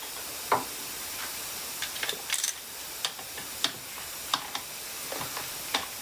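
A 10 mm socket wrench works loose the cover bolts on a Harley-Davidson Street 500 in quick ratcheting clicks, short bursts of light metallic ticks spread over a steady background hiss.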